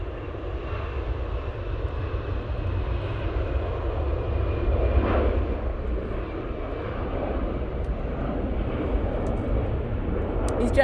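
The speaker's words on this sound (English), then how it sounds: "Easyjet now departing." An EasyJet airliner departs Manchester Airport, its jet engine roar a steady, broad rumble that holds strong and continuous throughout, heard from a distance outdoors with a brief voice faintly in the background.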